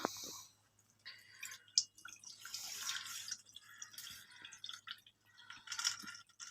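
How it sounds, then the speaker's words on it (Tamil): Water drains through a strainer, dripping and trickling close by in uneven bursts, with small splashes and wet patters coming and going, and no voices. "இப்போ நல்லா வடிஞ்சிடுது தண்ணி"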